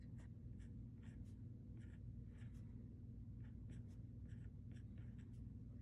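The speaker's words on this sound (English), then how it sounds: "You can also write on here directly." A stylus writes on a tablet screen in a note-taking app, giving soft, irregular taps and short scratchy strokes that come close and clear over a steady low background hum, with no talking.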